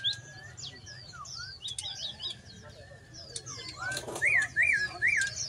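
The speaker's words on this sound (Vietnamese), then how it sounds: "Đến khu vực này được cái là rộn ràng tiếng chim hót" Many caged birds chirp and whistle at a busy bird market in Vietnam. Their bright, overlapping calls run the whole time, with some louder repeated whistles near the end, over a low background hum.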